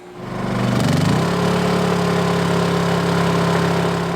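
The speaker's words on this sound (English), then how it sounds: "You hear the generator kick up outside?" A Honda 2200i portable generator engine outside surges up from a lower rumble to a steady, louder drone that holds without a break as a microwave loads it.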